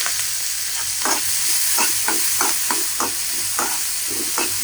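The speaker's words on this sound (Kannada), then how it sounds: "ಇವಾಗ ಇದಕ್ಕೆ ಚಿಕ್ಕದಾಗಿ ಹಚ್ಚಿರೋ ಕ್ಯಾಪ್ಸಿಕಮ್ ಹಾಕ್ತಾ ಇದ್ದೀನಿ" Chopped capsicum sizzles in a frying pan over a steady hiss of hot oil while a spoon stirs it, scraping in a regular rhythm of about two strokes a second, close and moderately loud.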